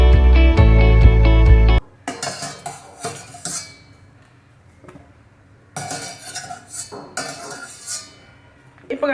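Metal spoon scraping and clinking against pots as cooked gooseberry (amla) jam is moved into another vessel to cool, a few close clatters and scrapes separated by quiet stretches, after a loud opening burst of other sound.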